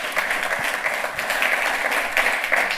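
Conference audience applauding an award speaker at an ACM Karlstrom Award address, loud continuous clapping from a sizeable crowd, close and sustained throughout.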